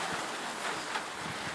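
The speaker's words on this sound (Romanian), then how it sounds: "Bate vântul, sper să nu se audă pe cameră." Wind gusts buffet an outdoor camera microphone, a dense, steady broadband rushing roar that fills the whole moment with no voices.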